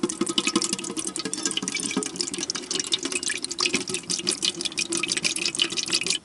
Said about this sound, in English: So I'm going to pour some oil in it.